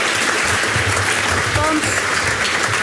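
Loud applause from a student audience at a national school debate competition, a continuous roar of clapping with a voice briefly audible beneath it.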